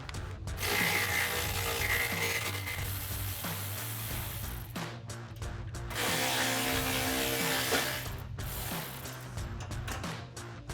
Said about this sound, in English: we're going to use our 10mm socket and remove those bolts